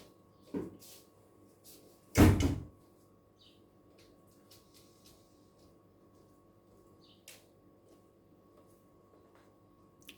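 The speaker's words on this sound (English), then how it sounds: "I went to close the door." An indoor door pushed shut with a single solid thump, preceded by a lighter knock, then near silence with a faint tap later.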